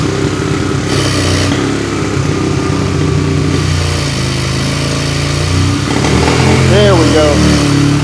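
1981 Honda CM200T TwinStar motorcycle engine running after a start, a loud, close, steady rough idle with small throttle rises, while someone speaks briefly over it.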